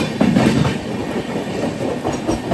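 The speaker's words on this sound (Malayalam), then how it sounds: "ഒരു ട്രെയിൻ ഉണ്ട്" A Mumbai–Visakhapatnam train rumbles past close by near Karjat on a heavy rain day, wheels clattering steadily over the rails in a loud, continuous roar.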